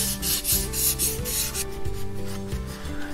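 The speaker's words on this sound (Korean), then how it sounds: "처음부터 600번 정도 되는 사포로 표면을 가볍게" Steady rubbing and rasping of fine 600-grit sandpaper across a wooden spatula, continuous back-and-forth strokes, close and fairly loud, with no voices.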